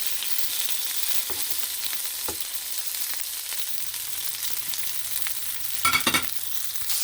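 Small sausages frying in a pan while breakfast is prepared for children produce a continuous sizzle, with a few soft clicks and a short louder burst of spatter and scraping near the end.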